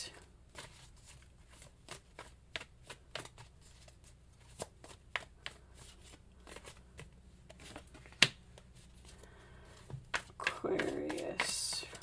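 Tarot cards shuffled by hand at close range, a run of quick papery riffles and soft slaps in uneven bursts, ending in a louder flurry, with faint whispered talk.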